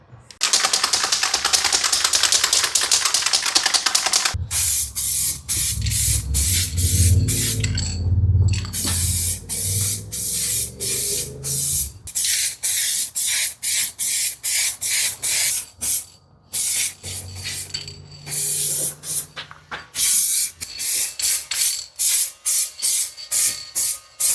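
Spray gun painting the inner wing of a BMW E36 328 coupe: loud, close bursts of hissing spray in repeated short passes separated by brief pauses, over a low compressor-like rumble in the middle.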